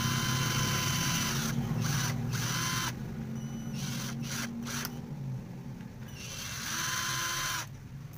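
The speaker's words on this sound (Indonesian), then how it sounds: "Kita bor agar sedikit kuat guys" Small power drill boring into wood for a miniature RC truck drive shaft, several short whining bursts starting and stopping, close and loud, with no talking.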